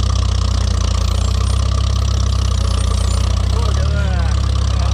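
Farmall tractor engine running loud and close with a deep steady rumble that rises slightly as it is throttled up; a person speaks over it.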